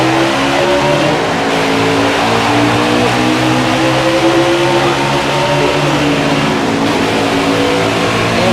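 Race car engines on a track roar in a steady, loud, continuous drone, with shifting engine tones as the cars run past.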